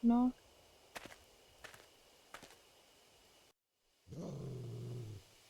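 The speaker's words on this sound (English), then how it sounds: "I hear a loud growl from somewhere." A low growl in the horror game Spirit Hunter: Death Mark rumbles near the end, preceded by a few faint thuds and a brief high tone, with a moment of silence before the growl swells and cuts off.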